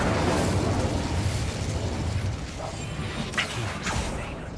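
Incendio fire spell cast in Hogwarts Legacy, a loud fiery burst and roar of flame that rumbles steadily for a few seconds, then thins out with a couple of brief flickering crackles near the end.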